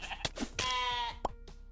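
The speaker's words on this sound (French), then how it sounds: "On n'en peut plus de ce bruit de mouton" Sheep in the video game Necesse let out a loud, wavering bleat up close, with a few short clicks of game sounds before and after it.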